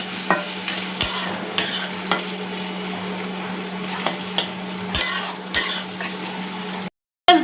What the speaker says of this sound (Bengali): ভালো করে এখন এগুলো ভেজে নিব